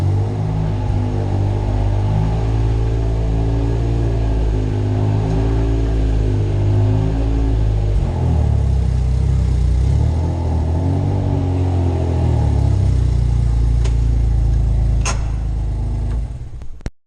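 A Caterpillar 825 machine's engine runs hard at high RPM, a deep, steady rumbling roar with a pulsing mechanical tone that holds close and loud for the full stretch before cutting off at the end.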